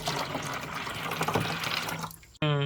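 Fresh water pours steadily into a small tank on a mini farm, a continuous close splashing rush that stops abruptly near the end before a brief tonal sound.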